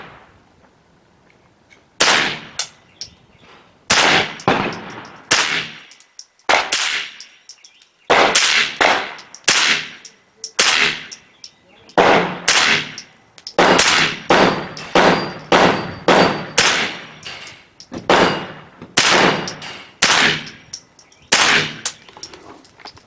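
Repeated gunshots from a firearm fitted with a Feyachi LF 58 green laser weapon light, about a dozen loud, sharp reports fired at uneven intervals, some in quick pairs, with short echoing tails and no talking.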